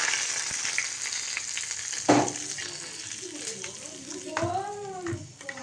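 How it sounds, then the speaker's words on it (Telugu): Hot tempering sizzles and crackles loudly as it is poured and stirred into radish curd chutney, a burst of frying near the middle with a voice talking over it. "పోపు చాలా ఫ్రై అయింది ఫ్రెండ్స్ ఇప్పుడు వచ్చేసి ఇప్పుడు మనం ముందుగా కలుపుకున్న ముల్లంగి పెరుగులో ఇది కలుపుకోవాలి"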